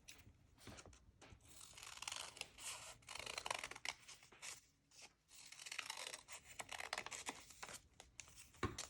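Scissors snip paper while folded paper is cut for a three-dimensional paper snowflake ornament, giving a quick run of close, crisp cuts with brief pauses and soft paper rustles.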